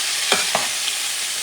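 Buckwheat and beef stirred in a pan over medium heat, with a steady frying hiss and two brief scraping strokes close by, no talk.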